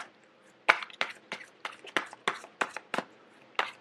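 Tarot cards being shuffled in a series of short, crisp riffling bursts, irregular in rhythm, close and fairly quiet with pauses between.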